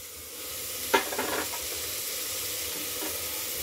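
Roughly chopped tomatoes go into a pan of vegetables for veg biryani, bringing a brief clatter and scraping stir over a continuous gentle sizzle, with no voices.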